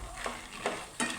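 Peanuts roast in a pan while being stirred, producing a few scraping, rustling strokes over a faint sizzling background.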